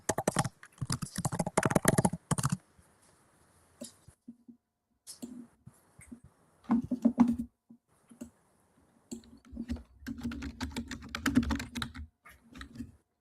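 Bursts of rapid computer-keyboard typing clatter close by during a board meeting, fast irregular key clicks in several spurts separated by quiet pauses, with no talk over them.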